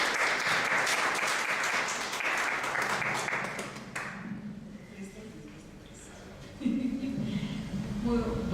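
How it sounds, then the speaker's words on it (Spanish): Audience applause welcomes the speaker Bernarda at an evening talk on a draft consultation law, loud and sustained for about four seconds, then fading to scattered claps under murmuring voices. "yo les pido que la recibamos con un aplauso"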